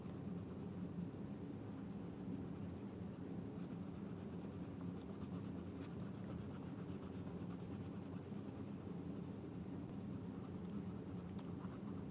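Colored pencils moving across very smooth paper in a steady, continuous soft scratching and rubbing, faint and close, with no talking.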